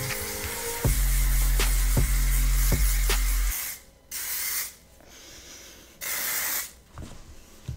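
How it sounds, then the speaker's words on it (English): Hairspray hisses onto hair in several close bursts, a few short sprays followed by longer spritzes separated by brief pauses, with no talking. "now that I have my extensions in, we're gonna put in a lot of hairspray"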